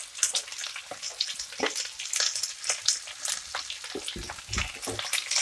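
Onions with curry leaves and green chillies frying in oil for semiya upma, a steady close sizzle broken by scraping stirs and brief clatters of a spoon against the pan.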